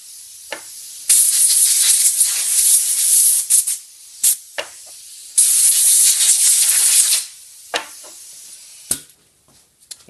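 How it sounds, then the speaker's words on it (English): Compressed air blasts onto small cutting-head parts from an on-car brake lathe on a workshop bench, with two long loud hissing bursts separated by several short puffs and near silence. "And we're going to hit them with compressed air."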